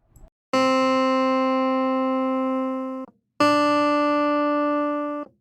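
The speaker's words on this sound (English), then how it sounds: "I'm using Contact's Scarby Clavinet Full" Scarbee Clavinet sample instrument in Kontakt, played dry with no effects: two bright, sustained plucked-string tones, each ringing for a couple of seconds with a slowly fading, harmonically rich timbre, clean and alone.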